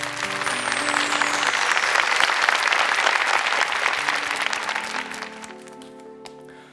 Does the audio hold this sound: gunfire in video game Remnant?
no